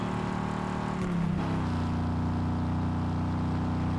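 Car engine in Fortnite, a Chapter 7 Season 1 car body, droning loud and close, rising in a quick rev partway through, then holding a steady roar.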